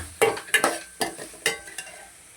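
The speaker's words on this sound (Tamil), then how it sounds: "பச்சை மிளகாவும் இதோட நல்லா வதங்கட்டுங்க" Green chillies sauté in a pan, with a sizzle under about six distinct spatula scrapes and knocks against the pan, spaced roughly half a second apart.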